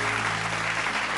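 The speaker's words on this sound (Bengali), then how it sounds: "জোরে হাততালি ওর জন্য" A studio audience at a Bengali family game show bursts into loud, dense clapping for a talented young contestant, a brief continuous wash of applause.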